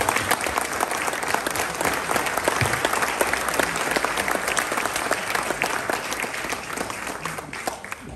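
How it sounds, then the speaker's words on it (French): An audience at a mayor's 2025 New Year's wishes ceremony applauds steadily, a dense, even wash of clapping that holds without pause for about eight seconds. "je vous propose qu'on vous applaudisse collégialement pour votre présence"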